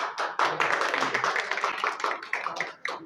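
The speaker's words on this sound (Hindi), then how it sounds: "तालियां तालियां।" Close, sharp hand claps from a small group at a union meeting come in a quick, uneven rhythm, each clap distinct, briefly thinning before resuming.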